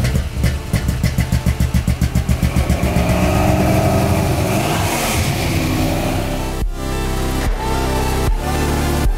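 A loud, deep engine revs repeatedly in rapid pulses, then roars into a sustained growl before settling into a rough, throbbing idle.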